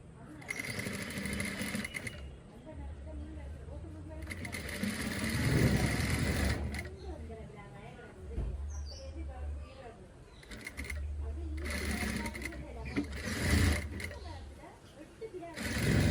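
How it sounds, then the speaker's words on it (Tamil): A sewing machine stitches a folded gown hem in several close, steady whirring runs with short breaks, while a person talks over and between them. "இதை இப்போ வந்து நான் மடித்து தைக்கிறேன்"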